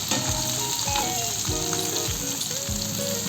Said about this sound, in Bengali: মাছগুলো একটু কড়া করেই ভাজতে হয়।